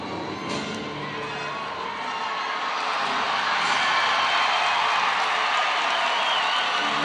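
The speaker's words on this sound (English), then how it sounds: "Another big roar from the Alabama crowd for Kiana Winston's score" A packed Alabama gymnastics arena roars and cheers after a floor routine, a dense, sustained wash of crowd noise that swells louder partway through and holds.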